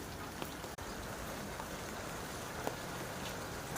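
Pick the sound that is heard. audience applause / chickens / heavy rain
heavy rain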